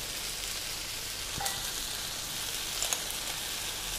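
Onion and tomato sauté in a pan with chilli powder for a prawn kurma, making a steady close sizzle with a couple of faint stirring clicks and no talking.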